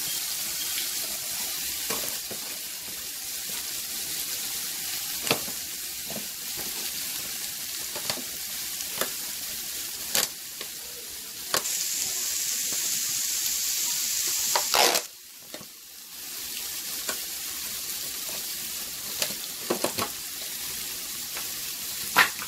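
Courgettes (zucchini) frying in a pan for spaghetti alfredo give a steady, close sizzle with no talk, broken by scattered clicks and scrapes of stirring and one brief dip in the hiss partway through.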